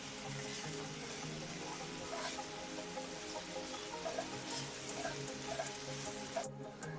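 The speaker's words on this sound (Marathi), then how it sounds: "मीडियम गॅसवरतीच आपण आता 3 ते 4 मिनिटांसाठी मेथी आणि लसूण चांगलं मिक्स करून परतून घेणार आहोत।" Fenugreek leaves and garlic stir-fry in a pan over a medium gas flame, giving a steady, close sizzle and crackle with faint scraping throughout and no talking.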